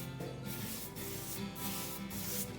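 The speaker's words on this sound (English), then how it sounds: "Then you get into your paint. Brush it on." A paintbrush spreads paint along a taped edge in rhythmic strokes, a close, steady swishing rub that repeats about every half second with no talking.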